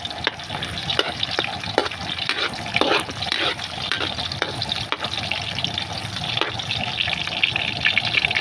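Chicken with onion and garlic sizzles and fries in a pan, with repeated stirring clatters of a utensil over a steady close crackle and no voices.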